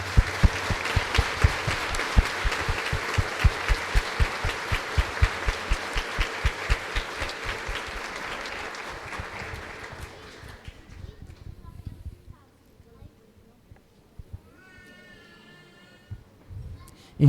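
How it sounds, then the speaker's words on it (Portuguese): A church congregation applauding during a Mass homily, brisk steady clapping that fades away after about ten seconds into a quieter room with faint voices. "Vocês também estão de parabéns e recebem as nossas palmas como apoio."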